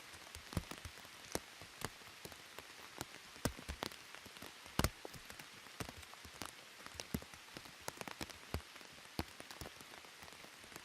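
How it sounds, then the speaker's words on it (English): Heavy rain pours down in the Colombian jungle, a dense, steady hiss of drops hitting surfaces, punctuated throughout by sharp, close raindrop splats, with no voices. "it's just going to pour down"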